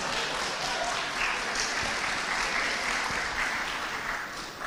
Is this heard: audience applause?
yes